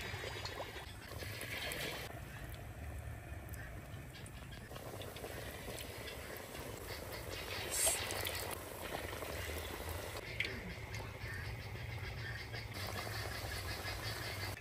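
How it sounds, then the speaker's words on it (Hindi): A large singhara fish frying in mustard oil in a kadhai on a village fire produces a steady, fairly faint bubbling sizzle that runs throughout, with a slight swell near the middle. "मछली को अच्छी तरह फ्राई करेंगे, साइड जो है वो पलट देंगे"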